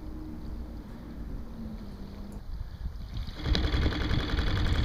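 Small 2.5 horsepower Yamaha outboard pushing a 17-foot Grumman aluminum canoe on open water near Manhattan, a low steady motor drone with wind buffeting the microphone, growing louder and busier toward the end.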